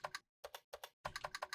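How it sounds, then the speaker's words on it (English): Computer keyboard keys, F6 among them, are struck in a quick, irregular run of crisp, close clicks with brief pauses between bursts and no voices. "So for type, you can go hit F6 on your keyboard"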